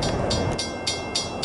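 A train rolls past on CSX or Amtrak tracks, with a steady rumble and a regular series of wheel clicks at rail joints, fairly close and heard alone without talk.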